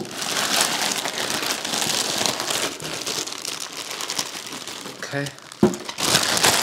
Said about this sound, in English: We'll go ahead and remove the plastic sleeve.